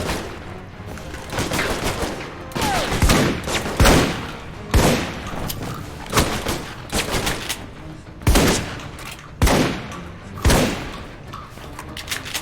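Repeated shotgun blasts in a video game fire in irregular bursts, each a loud, sharp boom with a ringing tail, spaced a second or two apart across the stretch.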